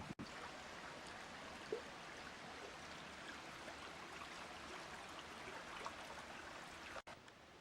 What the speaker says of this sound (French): La petite rivière est appelée tout simplement le torrent.